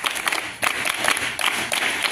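A group of school students applauds together at a classroom activity making clay models, a dense burst of claps that dips briefly, then swells again and continues steadily, fairly close.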